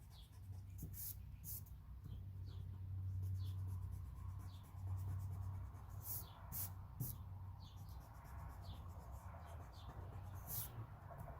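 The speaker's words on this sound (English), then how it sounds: "you're gonna erase the lines in between your stars" An eraser rubs pencil lines off paper in quick, scratchy back-and-forth strokes, soft and close, coming in uneven bursts over a faint background hum.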